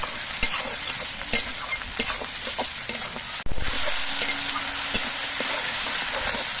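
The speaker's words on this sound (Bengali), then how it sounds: "কিছুক্ষণ নাড়াচাড়া করে আদাটাও ভেজে নিয়েছি" Ginger paste fries in hot oil while being stirred, a close, dense sizzle with regular scraping knocks of the spoon against the pan, no talk.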